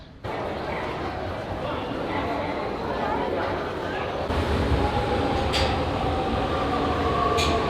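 A metro train in Beijing running with a steady loud rumble and rattle throughout, the noise rising slightly partway, with faint squeals and murmuring voices in the carriage.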